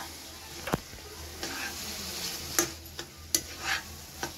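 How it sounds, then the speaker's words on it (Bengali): Coconut roasts in a pan for nadu, a low sizzle under repeated scrapes and knocks of a spatula stirring it, close by. "নারকেলটা ঝাঁই মেরে নিচ্ছি"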